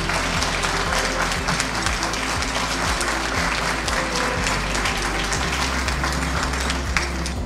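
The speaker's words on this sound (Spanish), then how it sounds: "quiero que le den un fuerte aplauso a Lely Medina Suárez" Applause at a Puerto Rican legislator's recognition ceremony for district athletes, honoring Lely Medina Suárez: dense, steady clapping from a large crowd, loud and sustained throughout without letup, with a low rhythmic thump underneath.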